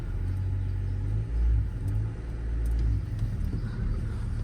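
An Audi A6 C6 quattro with a 2.0 engine rolls out of a garage, its low steady engine rumble close by and swelling slightly as it moves off, with no voices.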